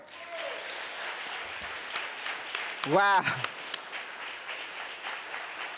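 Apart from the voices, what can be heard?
audience applause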